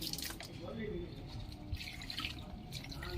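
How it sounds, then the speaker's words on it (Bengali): Water is poured onto a hibiscus plant, with steady splashing and dripping close by while people talk. "জবা গাছটাতে একটু জল দাও"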